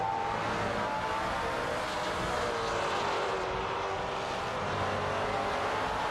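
BMW M3 GT4 and Ford Mustang Boss 302 GT4 race cars in a racing video game, engines droning loudly and continuously as they run side by side, a steady high-revving roar with no breaks.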